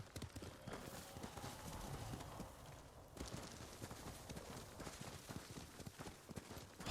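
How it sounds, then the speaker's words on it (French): Hooves of a white horse clip-clop steadily in the video game Ghost of Tsushima, a quiet, even rhythmic trot running throughout with a faint background wash. "j'ai pris le cheval blanc"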